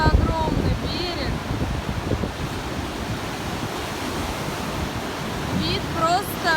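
Strong wind buffets the microphone as surf rolls onto a broad sandy Baltic Sea shore in April, a loud continuous roar with a voice speaking under it and faint gull cries.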